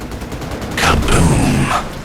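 Air support strike called in during a Modern Warfare Remastered match: a loud roaring rush of blast noise rises suddenly and holds, with a second surge of rumbling impacts, standing alone without talk.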